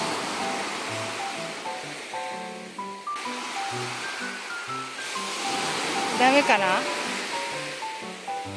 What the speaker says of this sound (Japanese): 波が来てるよ。